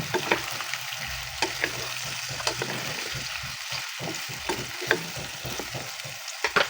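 Adobo na sitaw, long beans sizzling and frying in a pan just after soy sauce goes in, a steady loud crackle broken by frequent stirring scrapes, with no voices.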